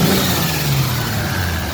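A car with a Toyota 2JZ-GTE engine fitted with an ATI balancer revs and accelerates in a steady, loud, continuous drone with a rising pitch, heard close with no talk.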